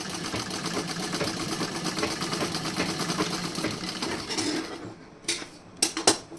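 Sewing machine stitching a blouse front with a temporary basting seam, a fast steady mechanical whir running for several seconds before stopping, followed by a few isolated clicks and knocks.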